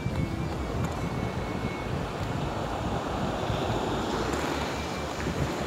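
Beach surf rolls in a continuous, low rushing wash, with wind buffeting the microphone steadily and no voices over it.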